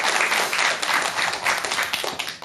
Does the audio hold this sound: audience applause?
yes